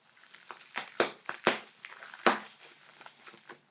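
An It Works body wrap is peeled away from the skin in a series of crinkly, tearing rips, with several sharp bursts separated by short pauses and quieter rustling in between.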